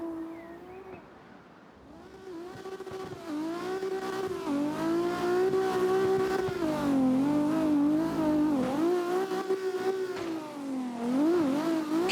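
A Toyota Supra race car at Ebisu Circuit holds a sustained high-revving engine note that swells and dips as it speeds across the finish line.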